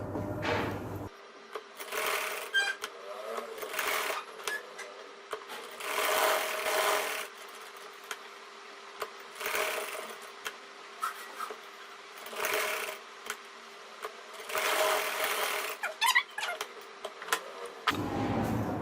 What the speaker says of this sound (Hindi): अब यहां से मैं जो कॉर्नर बनाया उस पे सिलाई लगाऊंगी।